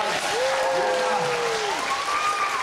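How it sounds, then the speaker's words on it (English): Audience applause and cheering at a children's insect show, a steady dense wash of clapping with a voice calling out over it. "Let's give them a big round of applause."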